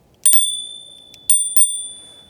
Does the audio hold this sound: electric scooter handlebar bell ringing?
yes